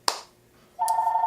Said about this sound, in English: And I'm sorry my phone's ringing